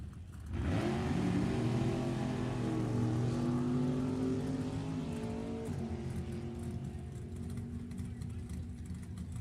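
A 1968 Camaro drag racing car with a 468 Chevrolet engine roars loudly and steadily, revving with a sustained, rising engine tone at a drag strip, with a second race car blended in and a faint announcer voice underneath.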